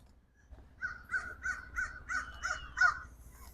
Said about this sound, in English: Crow had something to say.